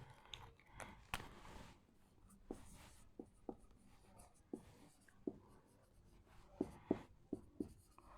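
A pen scratches across paper as a maths definition about conic sections is written by hand, with soft irregular strokes and small taps, close and quiet.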